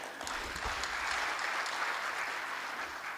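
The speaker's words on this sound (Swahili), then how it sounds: "makofi tena mengi" An audience at a government event applauds in a sustained, fairly loud wash of clapping, with a few sharper claps standing out near the start.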